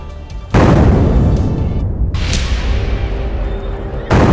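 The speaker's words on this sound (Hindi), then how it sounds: "धमाका, जोरदार धमाका। ऐसे ही कई धमाके हुए और पूरा इलाका दहल उठा।" Gas cylinders blasting during a fire at a gas refilling centre: a loud, sudden broadband boom hits and roars on for several seconds, followed near the end by a second heavy blast.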